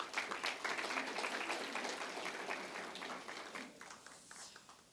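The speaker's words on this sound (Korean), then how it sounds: "큰 박수 부탁드리겠습니다" An audience at a Seoul city party members' debate forum gives a round of applause: a dense, even wash of many hands clapping, faint and distant, fading slightly toward the end.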